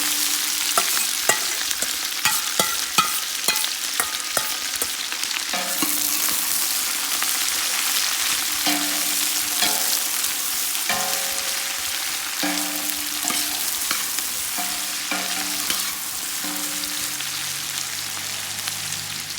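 A large batch of onions, 1.5 kilograms, fries for a mutton goat curry with a loud continuous sizzle, broken by repeated clanks and scrapes of stirring in the pot.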